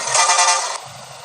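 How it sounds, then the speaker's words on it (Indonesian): A bus horn in Bus Simulator Indonesia, played on a route through Wonogiri, blares loudly and steadily for most of a second, then cuts off into quieter engine hum. "klakson 1, klakson 2, klakson 3"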